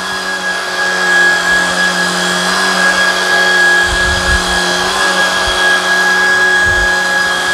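Shark Vertex cordless vacuum cleaner running on carpet, a steady loud motor whine with a high tonal hum throughout, occasional low thumps as the head moves, no talking.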